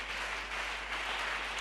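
A church congregation claps together during a Holy Communion service, a steady, dense patter of many hands that holds at an even level throughout.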